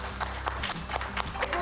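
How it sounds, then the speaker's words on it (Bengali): Audience at a women's icon award ceremony for aviation and tourism claps, a steady patter of hands with spaced louder bursts, fairly faint and diffuse in a large hall. "রিতা নাহারের জন্য জোরে হাততালি হবে"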